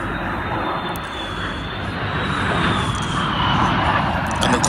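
A de Havilland Vampire jet with its Goblin engine flying at the Duxford Airshow 2018, a loud, steady roaring whine that swells slightly as the aircraft passes, heard from the crowd line.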